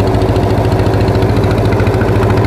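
Close, loud and unbroken, a fishing trawler's engine thrums steadily on a choppy river, its deep rapid chugging beat holding even throughout with no one speaking.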